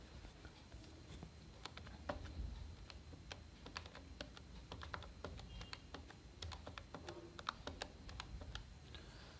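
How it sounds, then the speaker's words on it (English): Buttons on a Casio fx-991ES scientific calculator are pressed in quick, quiet, irregular clicks and taps, heard close up with no talking. "To enter an element, type in the element and press equals to button to enter."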